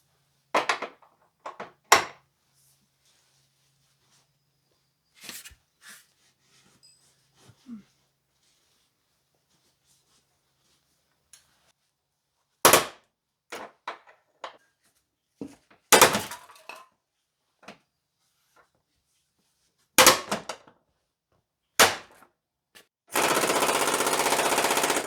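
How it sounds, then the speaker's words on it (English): A breaker bar works at a stubborn leaf spring bolt on a 1996 Jeep Cherokee XJ during a lift kit install. Sharp metallic clanks and bangs come in sparse, irregular bursts separated by silence, ending in a loud sustained harsh rasp. "Try this breaker bar."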